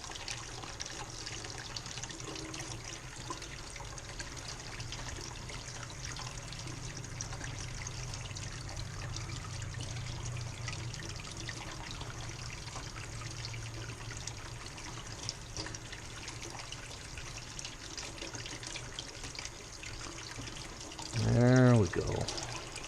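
Hot water runs from a tap in a guest house far from the water heater, a steady broadband rush that lasts the whole time with speech over it, ending in a brief louder splash or squeak near the end.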